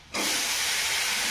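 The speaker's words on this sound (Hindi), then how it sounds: "यहाँ पे हमने सब्जी को फ्राई कर लिया है" Vegetables for sabzi, seasoned with sabzi masala and turmeric, hit hot oil and set off a sudden, loud, steady hiss that holds unbroken to the end.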